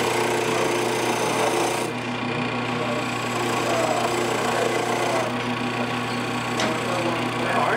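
A skew chisel cuts wood on a lathe in a workshop, giving a steady, continuous shearing and whirring with brief dips in the cut.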